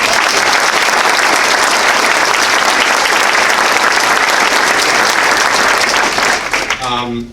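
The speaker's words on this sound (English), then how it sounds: "So one round of applause." An audience at a county executive's inauguration ceremony claps loudly and continuously, a thick wash of applause that fills the room before fading as a voice begins speaking at the very end.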